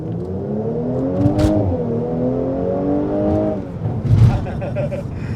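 A Mercedes C43 AMG pulls away hard from a standstill, engine note rising steadily in pitch, dipping at a gear change, then climbing again, loud and close from inside the cabin.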